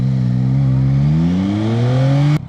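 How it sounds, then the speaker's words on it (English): A Yamaha Tracer 9 GT's triple-cylinder engine revs up close and loud, its pitch climbing smoothly for a couple of seconds before cutting off abruptly. "it's kind of a very, very sporty sounding engine, which is not my thing"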